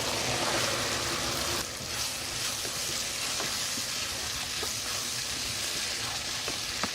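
Boiled white lobia beans fry in a pan, a moderate steady hiss of sizzling oil with faint occasional stirring taps, close and without speech.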